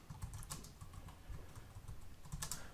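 Quiet, steady typing on a computer keyboard, a continuous patter of soft key clicks with a few sharper taps, close and alone.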